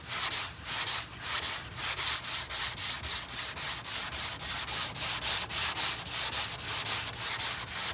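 Steady rhythmic back-and-forth rubbing of sandpaper over car body filler, roughly three strokes per second, close and even with no talk.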